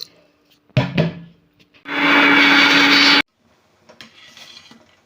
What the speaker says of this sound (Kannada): ಬೆಳ್ತಿಗೆ ಅಕ್ಕಿ ನೆನೆ ಹಾಕಿದ್ದು ಅದನ್ನು ಗ್ರೈಂಡ್ ಮಾಡಿ ತೆಗೆಯುವ